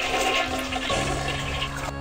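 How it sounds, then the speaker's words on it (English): Toilet flushing in the video game I Have No Mouth and I Must Scream: a loud, steady rush of gushing water with a gurgling shift partway through, heard alone and cut off abruptly at the end. "We gotta flush it three times."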